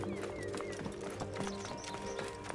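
Horse hooves clip-clop in a gallop inside the Assassin's Creed Origins world of ancient Alexandria, Egypt, steady and fairly close, layered with game music and ambient sound, while people talk over it.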